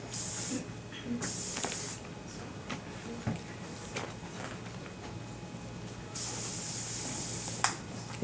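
Several short bursts of hair perfume spray hissing onto hair during a blow-dry styling session, close and clear, each puff lasting about a second with quiet pauses between.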